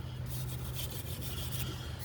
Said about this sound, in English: make sure you scrape all that muck, dusty bullshit out